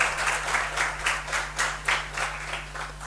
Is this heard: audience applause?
yes